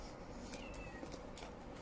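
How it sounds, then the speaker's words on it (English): A cat meows outdoors, faint and somewhat distant, with a couple of short cries over steady low background hum and no talking. "And if you can hear Happy, he's meowing outside."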